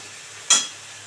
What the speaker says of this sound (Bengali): গরম জল দিয়ে দিচ্ছি